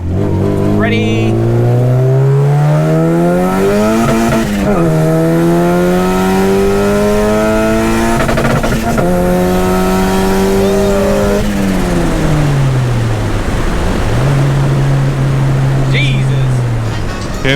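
A widebody Acura RSX accelerating hard through second gear, the engine note climbing steadily, dropping at shifts and climbing again, loud and sustained from start to finish.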